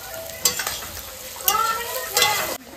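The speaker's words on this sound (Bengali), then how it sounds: "বিরেস্তা ভাজা হয়ে গেছে" Sliced onions frying in hot oil for biryani birista hiss and sizzle steadily, with a few sharp stirring scrapes and louder bursts as the pan is worked, close by and without speech.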